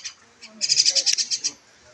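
Pet birds kept by a man call in a quick run of about a dozen bright, repeated chirping notes, close and fairly loud over quiet background.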